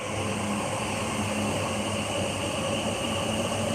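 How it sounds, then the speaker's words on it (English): A Yamanote line train passes near Shinjuku in Tokyo, giving a continuous broad rumble and rail roar that holds steady throughout with no talking. "Oh, there's the train going by."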